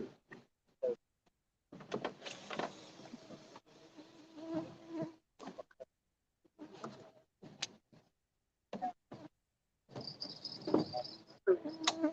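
Night insects, crickets among them, chirp and buzz in scattered bursts near a river in Wisconsin, faint and broken by pauses of silence.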